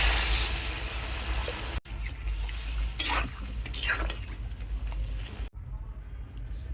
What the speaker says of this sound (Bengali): ভালো করে মশলা দিয়ে কষিয়ে নিলাম।